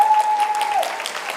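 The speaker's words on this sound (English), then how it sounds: "Can I get a round of applause?" Brief burst of applause from an audience at a high school senior scholarship and honors night, with a sustained whistle-like tone over the clapping in the first part.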